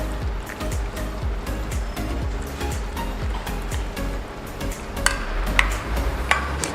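Spoon stirring grated cheddar into broccoli mac and cheese in a pan, repeated rhythmic scraping and sticky stirring strokes with occasional sharp clinks against the pan, close and steady.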